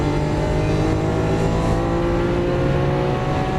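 A Lamborghini Aventador LP700-4 accelerates on a track in Las Vegas, its engine roaring loud and steady throughout with a dense, sustained drone and no pause.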